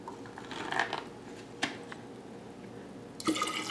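An ingredient is tipped into a big jug holding an apple cider vinegar tonic, with short pouring and splashing bursts, a sharp knock midway and a louder splash near the end.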